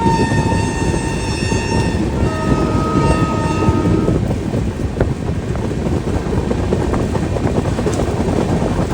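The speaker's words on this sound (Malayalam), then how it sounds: "നമ്മുടെ ട്രെയിൻ ഇങ്ങനെ പയ്യെ സ്വിച്ച് ചെയ്ത് ലൂപ്പ് സ്പീഡൊക്കെ ഭയങ്കര കുറവാണ്." The Yog Nagari Rishikesh express rolls slowly over switches, a heavy rumbling train with wheel clatter and a sustained horn-like tonal whine in the first few seconds, loud and close throughout.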